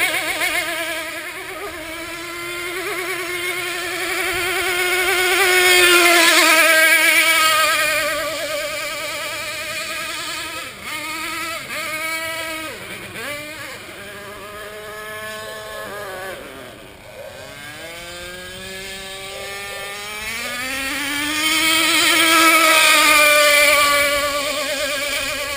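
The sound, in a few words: motorboat engine running on water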